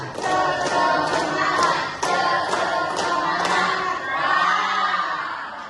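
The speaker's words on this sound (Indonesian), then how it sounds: "tepuk tangan kita semuanya anak-anak" A class of schoolchildren claps along in a steady rhythm, with sharp repeated hand strikes over a busy background of voices.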